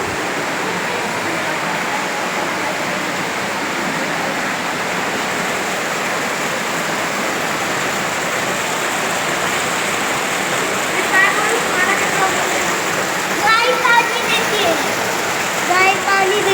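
Cold water pours steadily from a cow-shaped spout at the Panchganga temple in Mahabaleshwar, a continuous close rushing splash with faint voices rising toward the end.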